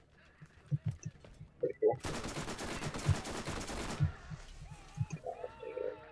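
The Gasher, a legendary fire-damage gun in Borderlands, lets off a dense rapid burst of shots lasting about two seconds, loud and continuous, with someone talking quietly before and after.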